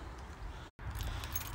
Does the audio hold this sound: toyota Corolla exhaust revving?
no